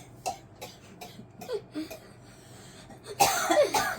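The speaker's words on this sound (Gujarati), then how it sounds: "હજી ઉધરસ ચાલુ છે" Several short coughs spaced out at close range, followed by a harsher, louder burst of coughing near the end.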